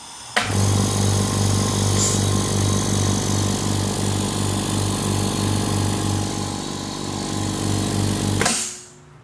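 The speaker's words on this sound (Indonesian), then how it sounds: "kita akan coba hidupkan dan kawan-kawan bisa mendengar bagaimana suara yang dihasilkan oleh kompresor" A Sanchin oil-less 1 HP air compressor with a 24-litre tank starts up and runs, a loud, steady, close motor drone with a low pulsing hum, and then abruptly cuts off.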